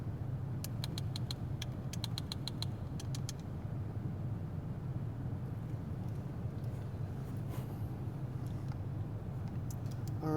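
Lancia HF Stradale engine in GTA V Online, a steady low drone of a car driving throughout, with faint clicks and mechanical ticks above it and no voices.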